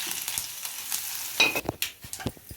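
Chana dal, urad dal, mustard seeds and garlic cloves fry in hot oil as a tempering for a brinjal fry. A soft, steady sizzle with scattered crackles and pops is heard close up but fairly quiet, with no talking.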